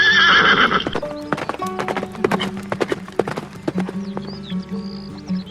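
An animated horse clip-clops in a quick, even rhythm and lets out a loud whinny at the start, with light background music running under the hoofbeats.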